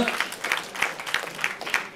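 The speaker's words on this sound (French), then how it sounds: "Adèle Galdez, sortie également pour l'US Sarignon sous les applaudissements du numéro 11." A football stadium crowd applauds as a player is substituted off late in a match between USSU and FC Metz, a fairly faint, distant wash of clapping with scattered louder claps and a hint of voices mixed in.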